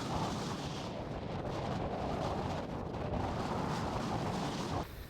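Desert sandstorm wind roars in a dense, constant rush, buffeting the microphone with heavy, unbroken noise for several seconds before easing at the very end.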